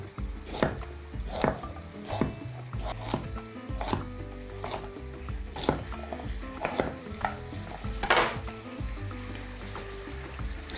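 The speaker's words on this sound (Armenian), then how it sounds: "Մյուս բաղադրիչը գազարն է, կվերցնեմ 2 գազար, միջին չափի և կտրատում ենք տափողակների" Two medium carrots being sliced into rounds on a cutting board, a steady series of sharp knife chops about every second, close and clear, with faint kitchen clatter between strokes.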